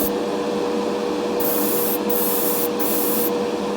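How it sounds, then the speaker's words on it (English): An airbrush sprays paint on a Corgi Mini custom build, a steady close hiss of compressed air with three short bursts of sharper spraying over a constant compressor hum. "Last time I used my airbrush, I didn't clean it properly, so it's not spraying as well as it should be."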